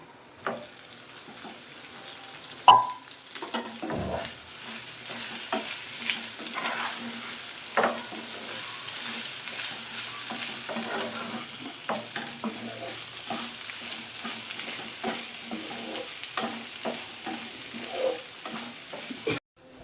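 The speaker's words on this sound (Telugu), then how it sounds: "మసాలా అంతా వేగింది ఇప్పుడు ఉడకబెట్టిన బంగాళదుంపలు వేసుకుందాం" Boiled potatoes tumble and sizzle in a spiced masala in a pan, steady frying hiss with scraping stir strokes and a sharp clink of utensil against metal, no voices.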